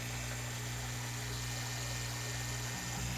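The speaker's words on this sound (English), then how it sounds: "So I have my air pump down here," An aquarium air pump runs inside a makeshift quieter box: a steady, low mains-like hum with a constant buzzing drone and no variation, heard up close.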